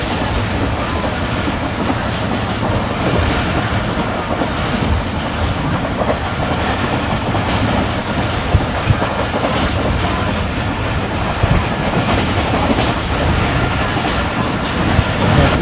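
Inside the Karachi Express as it picks up speed again, a constant heavy rumble and rattle of rolling coaches and rails fills the air, close and unbroken, with nobody talking.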